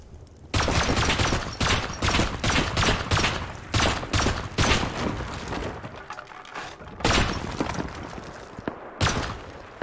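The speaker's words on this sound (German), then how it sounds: "Schüsse vom Rechts" Loud rapid bursts of gunfire in the video game Rust, repeated volleys in quick succession with short gaps, a final burst after a brief pause.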